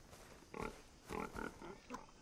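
Wild boars in the Far Cry 3 video game give a few low, rough grunts in short bursts, moderately close and fairly quiet, with no talk over them.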